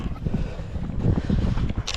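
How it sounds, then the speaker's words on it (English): Wind buffets the microphone out on Bodega Bay, a loud low rumbling gust that fills the short stretch with rough, fluttering noise. "I got a prevailing wind."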